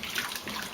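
Water pours into a canning pot of peaches, a brief, steady splashing gush at moderate volume.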